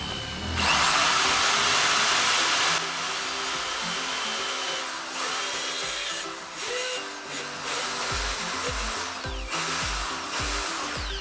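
A power tool whines loudly and continuously while cutting a small weld inside a Kawasaki Barako 175 motorcycle exhaust pipe, then drops to intermittent bursts and low thumps toward the end.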